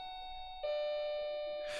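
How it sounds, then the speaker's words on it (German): A doorbell sounds indoors in a German home, a soft steady electronic chime tone that steps up to a fuller ringing note partway through and carries on quietly, with no talking. "Wahrscheinlich hat er auch unten geklingelt."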